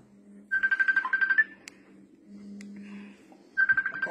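A telephone ringtone sounds in a pulsing electronic burst, pauses, then starts again, moderately loud over a low hum.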